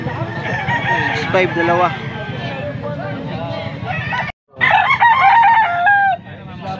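Boston stag roosters crowing close by in a Pampanga yard, loud repeated cock-a-doodle-doo calls with clucking, while someone talks over them.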